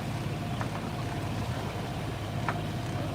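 A sailboat motoring under engine power, giving a steady low drone with water wash throughout, and a couple of faint knocks on top.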